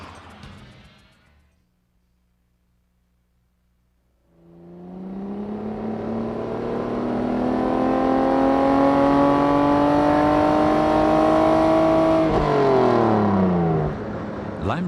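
A Lamborghini Diablo supercar engine starts after a short near-silence, then revs up into a loud, sustained rising howl with a strong harmonic whine, easing off briefly near the end.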